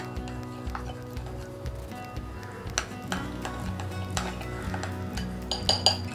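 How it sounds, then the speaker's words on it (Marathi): A spoon stirring and scraping ingredients with lemon juice for tandoori broccoli in a bowl, repeated clinks and chinks against the side in an uneven rhythm, close and clear with no talk. "तर आधी आपण थोडंसं चमच्यानेच मिक्स करून घेऊ।"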